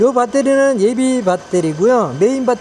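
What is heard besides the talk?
No distinct noise like a dog, phone or traffic.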